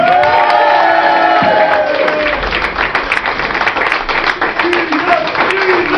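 A crowd at a live show cheers and claps loudly, with whoops and shouts mixed into the clapping and voices calling out over the din.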